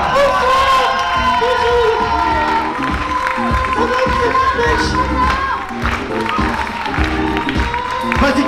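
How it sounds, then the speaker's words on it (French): A comedy club crowd bursts into loud applause and cheering for a performer, with whoops, shouts and children's voices mixed into sustained clapping, close and full. "nous vous demandons de faire un tonnerre d'applaudissements à Kata"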